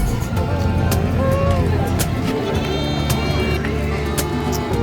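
Goats bleat repeatedly at a livestock market in San Carlos City, their wavering cries rising over a busy crowd murmur, with sharp clattering knocks scattered throughout and people talking nearby.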